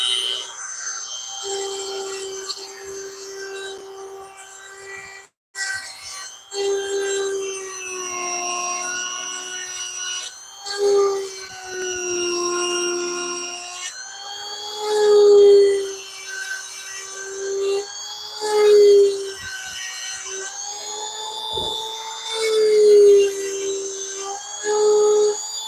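Dremel rotary tool power carving wood, a high whining motor with shifting pitch as the bit digs in and eases off, brief cutouts between passes, close and continuous for about twenty-five seconds without talk.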